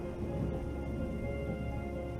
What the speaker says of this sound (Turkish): Yağmurlu bir hava sokakta.